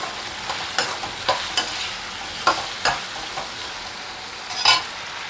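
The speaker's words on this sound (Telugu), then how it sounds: "పసుపు యాడ్ చేసుకున్న తర్వాత మన రుచికి సరిపడా సాల్ట్ యాడ్ చేసుకోవాలి ఇప్పుడు మంచిగా కలుపుకోవాలి" Potato fry with turmeric and salt gets stirred in a pan, a soft background sizzle broken by a series of crisp, irregular spatula scrapes, close by and with no voices.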